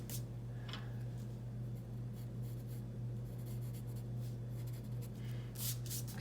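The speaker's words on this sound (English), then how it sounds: "I'm just going to erase just the top of the box so it looks a little bit more realistic" A rubber eraser rubbing out part of a pencil drawing of a box on paper: faint, soft scratchy strokes in short irregular bursts over a steady low hum.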